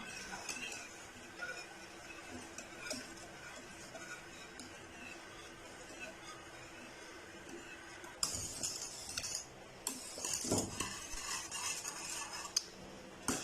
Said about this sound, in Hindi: फ्लेम ऑन करने के बाद मुसलसल हमने जो है वो स्टेयर करते रहना है ताकि इसके लम्स ना बने